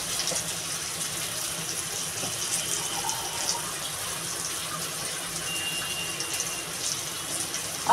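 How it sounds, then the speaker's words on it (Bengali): Water pours steadily into a cooking pot of food seasoned with salt and turmeric, a continuous even gush lasting several seconds with no talking. "আর এটাতে বন্ধুরা আমি এবার পরিমাণ মতো জল দিয়ে দেবো।"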